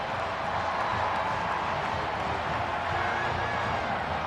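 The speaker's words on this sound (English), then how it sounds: "this crowd is pumped and ready for this one to get started" A capacity crowd fills the stadium before a Tennessee vs Auburn college football game on a mild evening, giving a steady, dense roar of far-off voices and murmur that never lets up.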